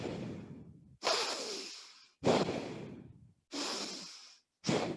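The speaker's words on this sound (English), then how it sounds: "Super forceful inhales, super forceful exhales. Push the air out" Four forceful breaths rush in and out through the nose in a power vinyasa yoga class, each a loud, close whoosh separated by brief silences.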